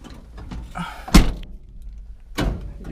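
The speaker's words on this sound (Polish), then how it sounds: "O, drzwi trzeba zamknąć." A single solid thunk of a Renault Trafic van door shutting, followed a moment later by a second softer knock, with faint rustling around them.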